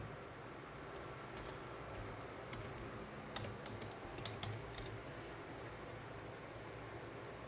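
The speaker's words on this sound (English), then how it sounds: "Let's type that in." Someone types on a computer keyboard, producing a few faint, scattered keystroke clicks that cluster briefly in the middle over a steady background hiss, with no talking.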